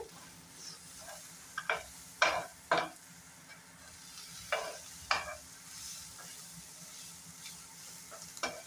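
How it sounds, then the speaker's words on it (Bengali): Chopped onion and whole cumin dry-roasting in a pan with no oil, beside a little released water, give a low steady sizzle broken by several sharp, close scrapes and clacks of stirring. "পেঁয়াজটা আর গোটা জিরাটা ভাজা হয়ে গেছে"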